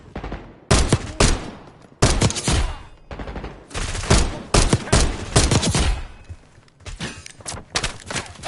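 Loud bursts of automatic gunfire erupt in Black Ops 6 campaign combat, several intense volleys separated by brief pauses, sharp and close with heavy impacts.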